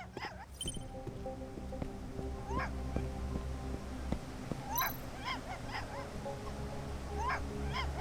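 Repeated sharp little barks and yips from a video game puppy, spaced irregularly and clustered toward the end, over a steady low ambient hum.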